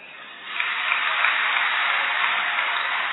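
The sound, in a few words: audience applause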